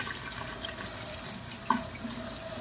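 Water rushes steadily as a school kitchen dishwasher drains out the side. A soft, continuous flow sounds close by, with one small splash partway through.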